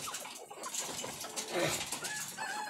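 Hens cluck and fuss in a backyard chicken coop, with several birds calling close by over a steady noisy background, one louder squawk near the middle.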